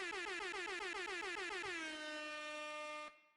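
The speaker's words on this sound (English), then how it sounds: "I got to let the air horns ring out" A loud air horn blasts in a rapid series of short honks, then holds one long sustained tone before cutting off abruptly.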